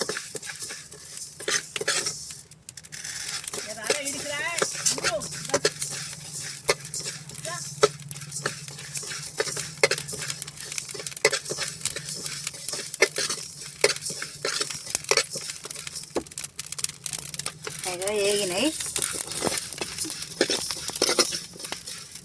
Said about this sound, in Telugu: నలభై గ్రాముల జీలకర్ర వేయాలి మంచిగా ఇట్లా వేయించుకోవాలి